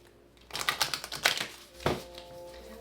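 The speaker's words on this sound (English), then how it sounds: "One more shuffle." A deck of tarot cards is shuffled up close, giving a quick burst of crisp riffling clicks followed by one sharp snap, then quiet.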